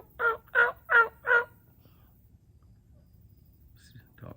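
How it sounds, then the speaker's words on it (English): Four loud wild turkey gobbles from strutting gobblers come in quick succession at close range, then a stretch of near silence with a faint call at the end. "Gobblers coming up in strut."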